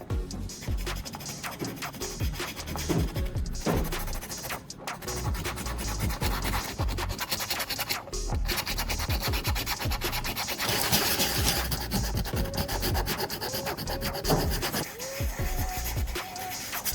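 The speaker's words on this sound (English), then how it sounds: "Now, for this metal lid, I'll need to sand off the plating." Sandpaper rubs the plating off a metal jar lid in a steady, close scratching and scrubbing that runs almost without a break, moderately loud, with small shifts in pace and a few brief gaps.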